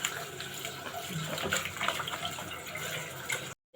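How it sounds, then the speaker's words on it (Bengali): Chopped banana flower is washed in water with steady splashing and sloshing throughout, close and fairly loud, then the sound cuts off abruptly at the end. "এখন সুন্দর করে ধুয়ে নেব।"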